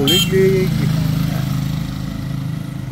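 Tricycles and kuliglig motorcycles roll along a busy provincial street in Quirino, Isabela, a loud, close, rumbling engine drone with a brief higher tone early on, steady throughout.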